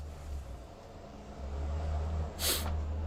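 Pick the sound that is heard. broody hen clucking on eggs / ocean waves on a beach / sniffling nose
sniffling nose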